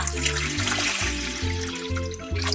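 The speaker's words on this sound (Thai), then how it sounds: "ใส่น้ำลงไปก่อนเลยนะคะ" Steady rushing of water poured into a pot, a continuous close splash whose pitch shifts in steps as the vessel fills.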